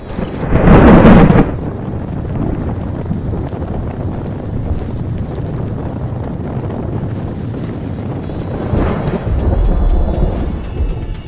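Super Cyclone Amphan strikes the West Bengal coast near Digha, a sustained roar of wind and rain battering the microphone, with heavy gusts swelling loud at the start and again near the end.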